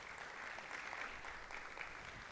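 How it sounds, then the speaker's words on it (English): An audience at a startup event's closing ceremony applauds, a steady, fairly faint wash of clapping that holds evenly for the whole stretch with no voices over it. "a big round of applause and a thank you"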